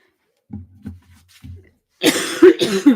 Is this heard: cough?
yes